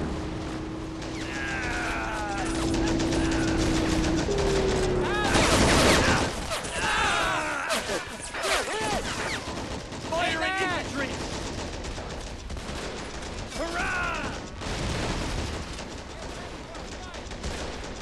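Battle in Men of War Assault Squad 2, USA versus Germany online, with loud, dense rifle and machine-gun fire in rapid bursts and volleys, heavier blasts, and shouted soldier voices over the shooting.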